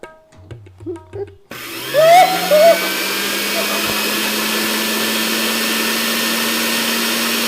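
An electric drill starts after some faint talk and then runs continuously with a steady motor hum and high whine, close and fairly loud, with a brief rise in pitch early on.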